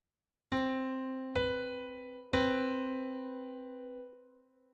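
Three piano notes of a major seventh chord are struck one after another and left to sustain together into a ringing chord that slowly fades.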